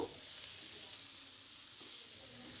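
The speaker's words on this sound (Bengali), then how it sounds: "মোটামুটি দু মিনিট মতো আলুগুলোকে নেড়ে চেড়ে একটু ভেজে নেব" Potatoes being stir-fried in a pan, with salt just added, give a steady hiss and sizzle at moderate loudness for the whole stretch, broken by faint stirring scrapes and no voices.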